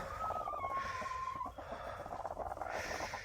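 Chickens on a farm clucking close by while newly hatched chicks are moved, a short run of calls with one drawn-out vocal note.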